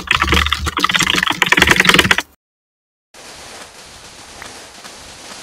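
Fast typing clatters on a computer keyboard for about two seconds, close and busy. A sudden silence follows, then a low steady background hiss.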